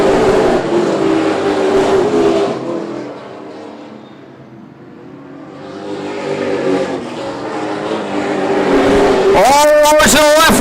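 Race cars roar through the Easy-Kleen 150, with a tight pack of four battling for second. The loud engine noise swells, fades as the pack moves off, then builds again, and a voice cuts in at the end.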